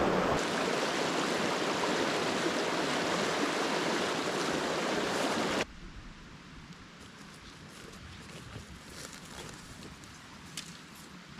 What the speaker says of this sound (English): we've got a nice cool stream running right in front of